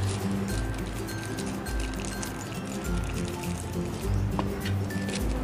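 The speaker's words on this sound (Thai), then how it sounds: "ก็ใช้ช้อนนะคะตักกอกใส่ถุงค่ะอาจจะยัดใส่ยากสักเล็กน้อยนะคะ" Spoonfuls of sticky Thai banana paste, the chewy cooked kluai kuan dessert, pressed into a small plastic bag, giving soft wet squishes and faint plastic rustles against a steady low background hum.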